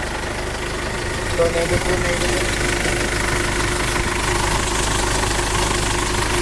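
A Ford Everest engine runs steadily after a top overhaul, a continuous low mechanical rumble with a faint knocking rattle, heard close and without pause.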